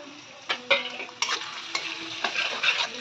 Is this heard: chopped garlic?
yes